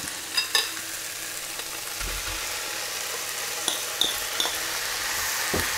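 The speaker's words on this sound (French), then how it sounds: "2 minutes qu'on fait revenir carottes et oignons" Carrots and onions sauté with pork in a pan, giving a quiet steady sizzle broken by a few soft clinks and scrapes of stirring, with no one talking.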